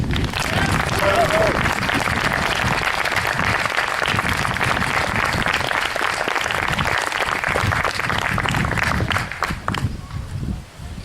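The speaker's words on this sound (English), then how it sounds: "Let's give our new Eagle Scout one more round of applause" At an Eagle Scout ceremony, the audience applauds the new Eagle Scout with a long, steady round of clapping and crowd murmur, loud and sustained for about ten seconds before tapering off, with voices mixed in.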